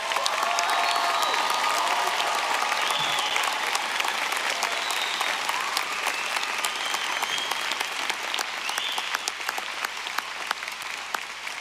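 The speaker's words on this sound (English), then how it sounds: "We'll give them a big round of applause." Sustained applause for graduates at a University of Evansville commencement ceremony, a steady broad roar of many hands clapping in a large venue, with faint cheers, holding at even strength for over ten seconds.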